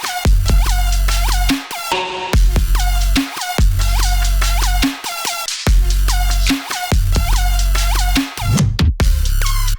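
Loud electronic music track with punchy, checkerboarded kick and snare drums in a driving repeated pattern, heavy bass and bright synth layers, with short gaps where the beat drops out.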